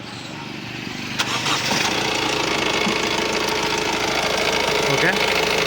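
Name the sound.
Honda WR-V 2017 car engine starting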